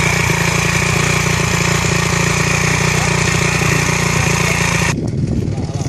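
A motorcycle engine runs loud and close, a steady idling drone with a shift in tone near the end.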